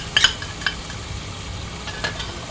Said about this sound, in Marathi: सर्व मिक्स करून घेऊया.